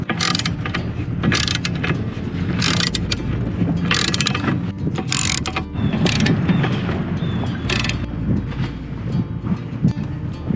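A wrench tightening bolts on a sailboat's new anchor chain outdoors, with repeated ratcheting clicks and metal clanks over steady wind noise.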